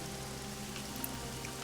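Steady rain patters continuously on surfaces, a dense, even hiss with no pauses or voices during a warm-weather rainfall.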